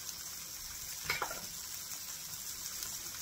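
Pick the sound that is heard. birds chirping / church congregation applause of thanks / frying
frying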